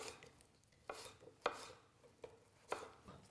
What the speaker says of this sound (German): Dann einfach ganz grob schneiden, zack,